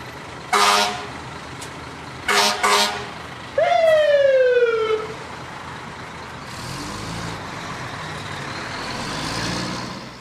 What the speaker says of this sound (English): Their sirens flash and wail to clear the road ahead.